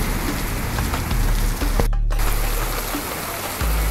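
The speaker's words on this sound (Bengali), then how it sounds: "বৃষ্টি নেমে গেছে গাইস।" Heavy rain falling, a loud, dense steady hiss of drops drumming on surfaces, close by and continuous with a brief dip partway through.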